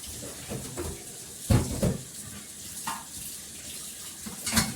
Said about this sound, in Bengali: কড়াটা ভালো করে ধুয়ে নিচ্ছি।